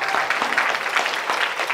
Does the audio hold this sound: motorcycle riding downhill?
no